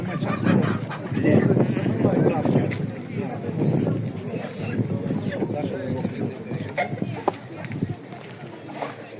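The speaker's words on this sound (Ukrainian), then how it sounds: "Ви качечку чи качера хочете?" Ducks and geese honk and quack at a market fair in Vinnytsia, loud and close, in repeated bursts over several seconds, mixed with people talking nearby.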